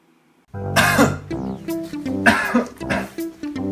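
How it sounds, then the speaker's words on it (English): Several harsh, wet coughs in quick bursts, loud and close, with throat-clearing rasps between them and no speech. "I'm coughing profusely"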